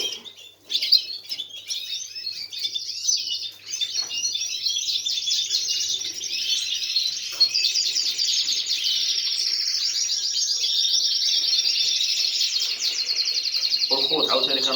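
Caged canaries sing continuously in a dense, high warbling chorus with rapid trills, loud and close, running throughout without pause.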